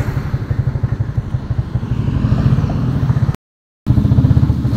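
A motorcycle engine chugs steadily with rhythmic low pulses, rising slightly as it rides, then cuts out briefly before resuming.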